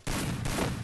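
Dense gunfire in an online team shooter game, with a continuous loud burst of rapid shots filling the whole moment, close and harsh, with no voices.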